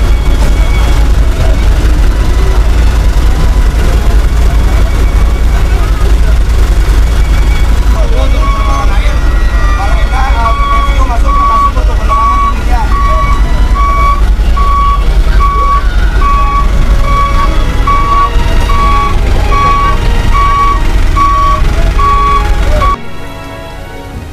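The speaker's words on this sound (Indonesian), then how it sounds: "Ini barusan datang dari Dinas Kebakaran Kabupaten Bandung. 3 mobil" Three Bandung Regency fire department trucks arrive with a loud, heavy engine rumble, then a truck's reversing alarm beeps in a steady repeated rhythm through most of the second half before the noise drops at the end.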